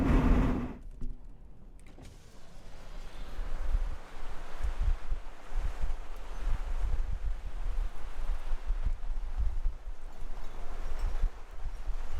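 Strong wind buffets a parked vehicle sitting broadside to it amid a dust storm in Jordan, Montana, giving a steady, loud roaring rush with low gusting rumbles and microphone buffeting after a brief quieter opening.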